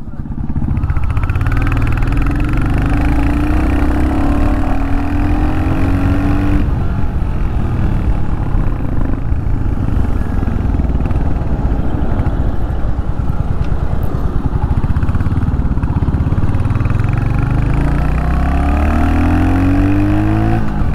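Royal Enfield Hunter 350 motorcycle with an air-oil cooled engine running loud and close, a steady throbbing thump with rises in pitch as it revs and pulls away, carrying on for some twenty seconds.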